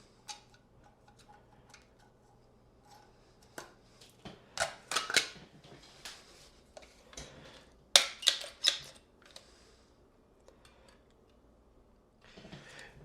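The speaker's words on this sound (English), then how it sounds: "I pop my gun back open and I'll clear out the nozzle here with the tip of the gun" Caulk gun being opened and its nozzle cleared with the gun's tip: a scattered series of sharp plastic and metal clicks and snaps, with the loudest bursts clustered in the middle and near the end, close and distinct.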